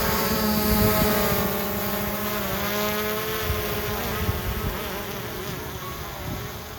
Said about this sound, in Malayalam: ഡ്രോൺ ടേക്ക് ഓഫ് ചെയ്ത് സുഹൃത്തിൻ്റെ വീട്ടിലേക്ക് പോവുകയാണ്